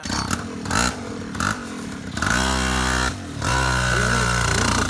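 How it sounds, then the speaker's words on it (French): Jet ski on Réunion water, its engine revving in repeated bursts that cut in and out, rising pitch on each throttle pull with brief quiet gaps between, close and loud. "techniquement, du jet ski, c'est comme faire de la moto sur l'eau"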